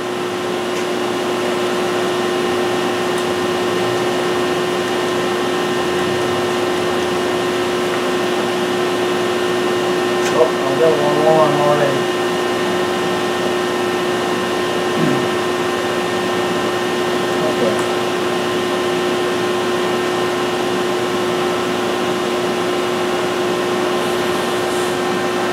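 A Fanuc OM CNC mill runs steadily, producing a loud, constant mechanical hum and tonal whine with a few brief faint clunks partway through, unchanging across the whole stretch.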